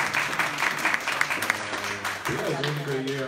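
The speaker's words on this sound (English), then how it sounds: "Let's do a round of applause for Lauren." Applause at a poetry event screening, moderate clapping that is partly masked by overlapping voices and murmur and gets softer and more broken toward the end.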